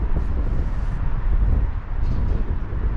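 Strong wind blowing in the open air of Baku city, a loud continuous rumbling buffet against the microphone with gusts swelling and easing over a few seconds.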